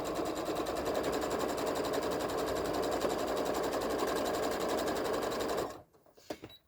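A sewing machine runs steadily while stitching fabric for a mini tote bag, with a fast, even mechanical whir held for about five seconds before it stops abruptly, leaving faint handling clicks and no talk.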